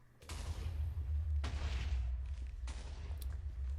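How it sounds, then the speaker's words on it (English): Explosions in the Abyssacraft Minecraft modpack game: several heavy booming blasts, each a sudden burst that settles into a sustained deep rumble, loud and close with no talking. "But first, watch the explosion."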